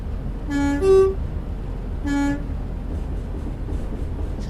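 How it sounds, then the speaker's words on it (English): Train horn in Train Simulator Classic, sounding two distinct blasts, a longer double-toned one followed by a shorter one, loud and clear over a steady low rumble of the locomotive with no talking. "Love the sound of that horn."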